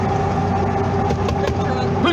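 A big truck rumbles past close by, its low engine drone and road noise steady through the short moment, with people talking over it inside a vehicle.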